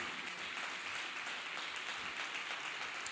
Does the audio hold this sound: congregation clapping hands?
yes